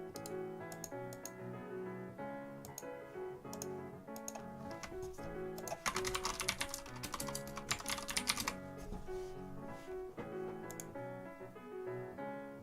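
Computer keyboard keys clatter in quick, continuous bursts close by, with a denser flurry of rapid strokes midway, over a steady background tone and no talking.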